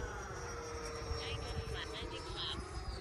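Steady whooshing whine of an E-flite Havoc Xe 80mm electric ducted fan model jet in flight, continuous and moderately distant, with a faint voice talking over it.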